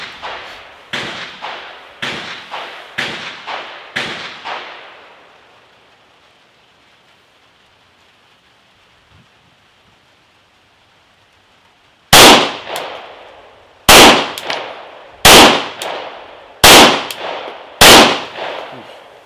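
A Rex Zero 1 pistol fires Freedom Munitions ammunition outdoors, five evenly spaced shots with ringing decay, then a long pause and five sharper, louder reports in steady succession.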